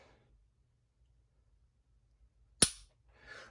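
A single sharp, loud click as the trigger of a Glock 48 pistol is dry fired, standing alone after near silence with a faint rustle afterward.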